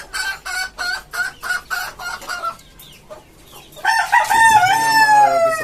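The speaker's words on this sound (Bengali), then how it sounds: "এই বাচ্চাগুলো সারাদিন তিরিং তিরিং করে" Chickens and young chicks at a poultry farm, with a run of loud, rhythmic clucking calls first and then a burst of shrill, overlapping chirps and crowing close by. Nobody speaks.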